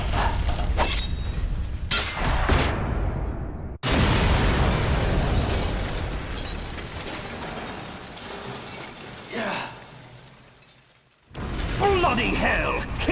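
An explosion destroys the radome in the Metal Gear Solid video game: a loud burst with crashing, rumbling debris that decays, then a sharp second blast cut short by silence and returning noise.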